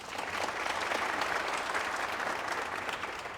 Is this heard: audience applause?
yes